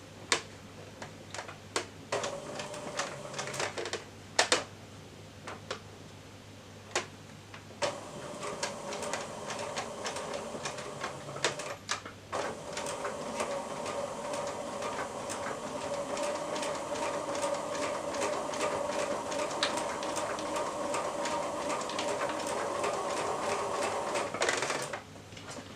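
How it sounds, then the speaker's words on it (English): A sewing machine stitches across the bottom of a travel bag's fabric. Sparse clicks and handling come first, then a fast, even run of rapid stitching that continues for the last half, with no talking. "So all I'll do now is I'll just stitch it across the bottom on each one"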